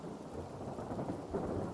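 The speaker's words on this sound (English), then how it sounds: "Always nice to have a nice little thunder rainstorm." Rainfall and a low rolling thunder rumble from a thunderstorm in the video game Hytale, a steady dense patter throughout with the rumble swelling underneath.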